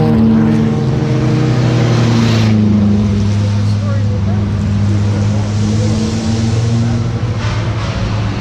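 Vintage race cars thunder past at the Pittsburgh Vintage Grand Prix, a loud continuous engine roar that holds steady for several seconds with a slight shift in pitch as the cars pass, over a crowd-like background wash.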